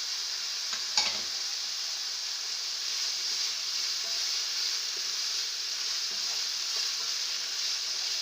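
Cabbage and capsicum stir-fried for chicken fried rice give a steady, close sizzling hiss throughout, with a brief clatter of a utensil near the start and no talking.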